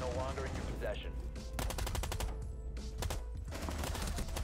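Rapid bursts of automatic gunfire from a weak weapon in the tactical shooter Rainbow Six Siege, loud, close and repeating in clustered volleys across the whole stretch with short gaps between them.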